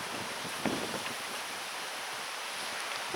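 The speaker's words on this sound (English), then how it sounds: "The wind's got up." Steady wind blusters across the microphone beside Great Linford Lakes, a constant broadband roar with slight gusts and no voices.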